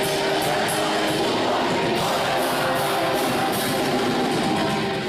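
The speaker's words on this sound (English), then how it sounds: "when thousands of Brazilians sing along to Portuguese language, it sounds like this" Thousands of Brazilian fans sing along in Portuguese, a broad, roaring crowd chorus that fills the space continuously, loud and washed out with no single voice standing apart.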